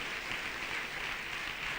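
A church congregation applauds for the Lord, a steady wash of clapping at even loudness with no voices, continuous through the short moment.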